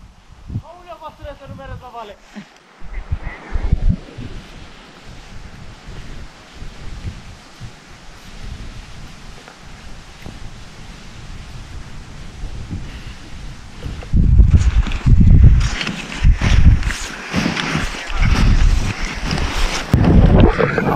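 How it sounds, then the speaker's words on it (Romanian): Wind blowing across a hilltop crest on Dealul Blajei, coming up from a valley, makes a steady rushing and buffeting noise that swells into louder gusts in the second half, with occasional voices in places. "Are vântul în acest moment dinspre Valea Chierhei."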